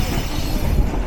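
Padma Express train pulling into platform 2 at Biman Bandar (airport) station at night, a dense, loud roar of wheels and rolling stock with a light squeal and rattle, steady throughout the brief moment, no talking.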